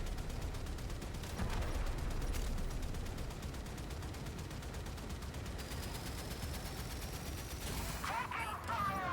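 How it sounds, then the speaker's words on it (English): Guns fire steadily in a snail-themed video game, a dense continuous barrage with sharp bursts and a rising whine near the end. "Gonna have to shoot this one with some guns, I guess."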